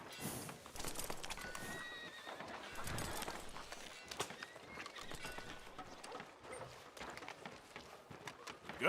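Horse in the video game Red Dead Redemption 2 whinnying loudly near the start, then hooves clip-clopping in an uneven walking rhythm, close and fairly quiet, with no talk.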